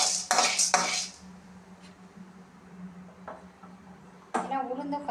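Chana dal roasting in a pan for idli podi, stirred with a utensil that gives loud clattering scrapes and clinks at the start and again at the end, with a quieter low rustle in between.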